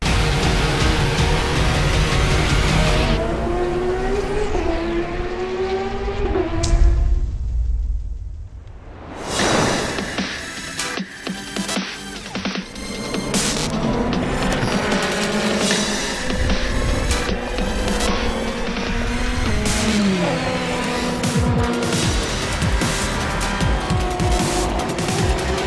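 Race cars at Le Castellet (Circuit Paul Ricard) during the 2021 4 Hours endurance race, sweeping through a super fast right-hand curve; loud engine notes rise and fall as cars pass close by in quick succession, with a sharp whoosh midway.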